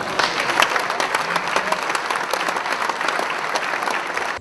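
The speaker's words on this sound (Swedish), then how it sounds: "Och en stor applåd till vinnarna." An audience at a 2010 maintenance-industry event applauds the Chalmers winners of a productivity prize, a thick, continuous wash of clapping that stays loud and even from start to finish.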